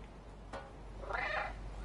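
A stray cat gives a single drawn-out meow at close range, preceded by a brief sharp knock, with a quiet room hum underneath.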